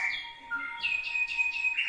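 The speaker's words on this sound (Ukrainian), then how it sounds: "Пташки поспівають, бач?" Small birds sing clear, high whistling notes and chirps, several calls in quick succession, nearby and fairly quiet with no talking.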